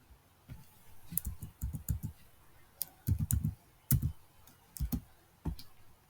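Computer keyboard typing while fixing a misspelled account name in accounting software: bursts of close, crisp key clicks in short uneven runs separated by brief pauses, with no voices.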